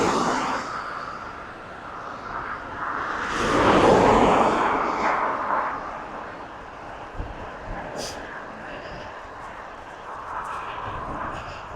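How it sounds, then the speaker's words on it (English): A Jet2 airliner taxis at Bournemouth airport, heard outdoors from a distance: its engine roar swells and fades under steady wind noise, with no one speaking. "There's a Jet 2 on the taxiway."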